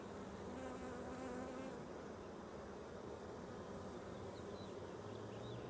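Honeybees buzz steadily during a spring hive inspection, a dense, continuous drone that stays close and fairly loud throughout with no talking.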